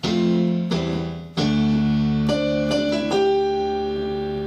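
Piano chords and single notes ring out in a brief phrase, some held and decaying, a couple of quick notes near the end, played alone.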